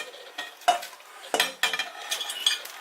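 Pulled lamb stirred into stock in a pot: a spoon scrapes and clinks against the metal in several quick strokes, close and fairly loud, with a soft simmering hiss beneath and no talking.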